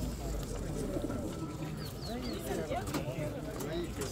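Pigeons coo at a bird market in Pyatigorsk, soft repeated cooing and fluttering under nearby men's conversation and general market noise.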